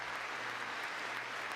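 Applause rises in Congress during an address, a faint, distant wash of clapping heard without any voices.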